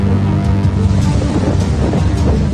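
Cyclone Biparjoy storm wind and high waves on the Arabian Sea off Kutch make a loud, constant roar of gusts and churning surf with no pauses.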